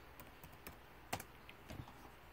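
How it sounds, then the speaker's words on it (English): Laptop keyboard keys tapped in a short, irregular burst of light clicks, quiet and close in a hushed room. "I can still use the keyboard."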